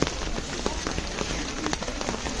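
Rain falls steadily around Guna Cave in Kodaikanal, a dense patter of drops on wet surfaces heard close by, with faint scattered knocks and no clear speech.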